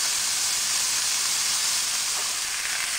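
Meat browns in a big skillet on the stove, giving a steady, even hiss and sizzle from start to finish with no talking.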